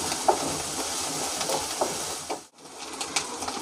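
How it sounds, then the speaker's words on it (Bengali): Cardamom and cinnamon frying in hot oil give a steady, even sizzling hiss with a few faint pops, holding at one level apart from a brief dip in the middle. "দিয়ে দিচ্ছি এলাচ, দারচিনি আমি এটা ভালো করে ভেজে নেব।"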